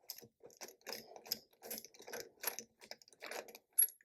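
Ratchet clicks in short rapid bursts as a spark plug is loosened on a Harley-Davidson motorcycle engine, close and fairly quiet, repeating roughly every half second with a sharper click near the end.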